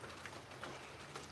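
Steady rain falls outdoors beside a grill where chicken is cooking. It comes through as a soft, constant hiss that stays faint and even the whole way, with no voices.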